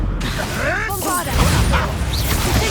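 A Bombarda spell blast in Hogwarts Legacy, a sharp whooshing crash and burst of impact noise mixed with rapid game effects and a voice talking over it.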